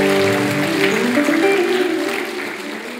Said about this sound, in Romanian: aplaudați-i